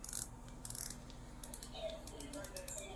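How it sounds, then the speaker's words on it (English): The rotating bezel of a Citizen dive watch clicks in quick, fine ratcheting ticks as it is turned, faint and close, with bursts of rapid clicks and short pauses. "For those of you who want to listen to the bezel action"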